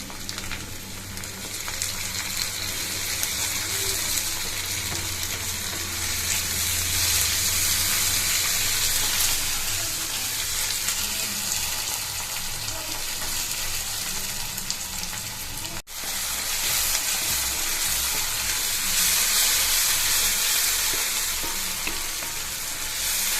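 Chopped tomato frying in a pan for sardine curry, a loud continuous sizzle with stirring scrapes throughout, no voices.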